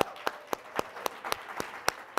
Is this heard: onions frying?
no